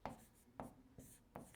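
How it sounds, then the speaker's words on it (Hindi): Handwriting during a data interpretation lecture, four brief scratchy pen or marker strokes at a steady pace, close and soft. "लिखता हूं मैं।"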